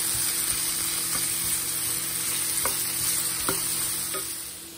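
Turbot and vegetables sizzle steadily in olive oil in a pan, a constant hiss with a few sharp stirring clicks and scrapes, close and moderately loud with no talking.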